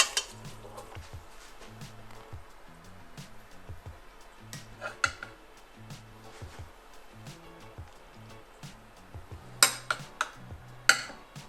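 Spoon scrapes and clinks against a metal pot as spaghetti is stirred, with scattered sharper knocks near the end amid a low background hum.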